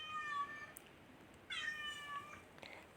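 A domestic cat gives two drawn-out meows, the first trailing off and the second rising then falling, close and clear against quiet room tone, with a faint click near the end.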